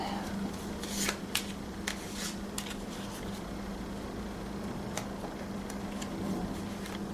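Tarot cards being shuffled by hand, soft continuous riffling with a few sharper snaps and taps, close up over a steady low hum, no talking.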